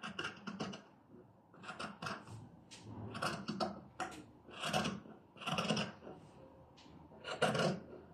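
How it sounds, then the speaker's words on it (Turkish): Fabric for the body of a kimono being cut with scissors: repeated close, rasping snips and rustles in irregular bursts with short pauses between strokes, with no talking. "Şimdi birer santim dikiş payı vererek kesiyoruz bedenimizi."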